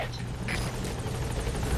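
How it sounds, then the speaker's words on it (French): A helicopter arrives for deployment in the video game Metal Gear Solid V: The Phantom Pain, its steady rotor thump and engine drone filling the clip, with faint speech in the background. "Je vais appeler l'hélicoptère qui va me déployer sur le terrain."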